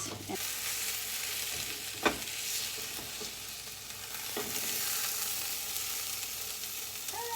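A plant-based, egg-free omelette sizzles steadily in a frying pan while a spatula lifts its underside, adding a couple of faint scrapes and taps over the hiss.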